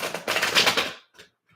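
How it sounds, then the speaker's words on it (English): A deck of tarot cards riffle-shuffled at close range, a dense rapid flutter of card edges lasting about a second, then a brief second riffle and a tiny snap. "We're going to go ahead and shuffle the deck and get your energy into the cards."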